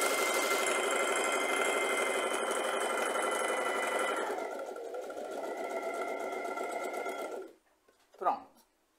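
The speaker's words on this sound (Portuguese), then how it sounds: "E nós vamos costurar em cima da linha, tá?" A domestic sewing machine runs steadily as it stitches along a drawn line across a fabric square, a loud, continuous mechanical whir close by that slows and changes pitch before stopping.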